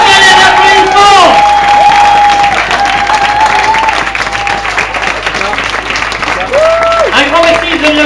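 An audience at an evening show applauds loudly and steadily, mixed with cheering, whoops and whistles, while voices talk through the crowd noise.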